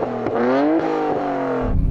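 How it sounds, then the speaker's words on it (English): A Nissan Skyline R34 engine revs up close and loud, the pitch climbing sharply, then holding and dropping briefly in under two seconds. "Go on, rev up the R34."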